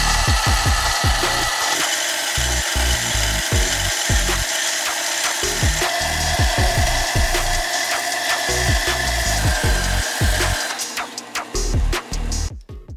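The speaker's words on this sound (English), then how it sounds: "Chuck it into a drill, send it across the belt sander." A belt sander whirs continuously while a wooden dowel, chucked in a drill, is pressed against it in repeated short grinding strokes to taper it, with a brief rasping wind-down at the end.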